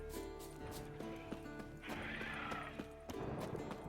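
A horse in the fantasy game The Witcher 3 whinnies and snorts while its hooves clop rhythmically on the ground, fairly close, with game music underneath.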